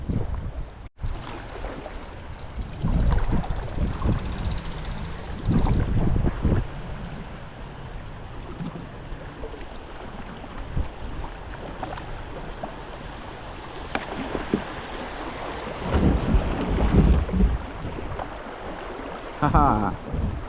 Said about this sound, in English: we are headed back downstream, directly into the wind. I'm sure y'all can hear that all pretty clear.